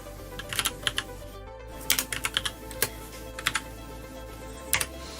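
Keys on a computer keyboard clatter nearby in uneven clusters of sharp clicks, with short pauses between bursts, and no voices.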